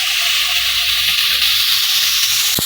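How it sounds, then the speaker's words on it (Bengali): Ginger and cumin paste hitting hot oil for a potol and potato curry, giving a loud, steady sizzle and hiss throughout, with a brief stir or clink near the end. "এবার দিয়ে দেবো পেস্ট করা আদা এবং জিরে।"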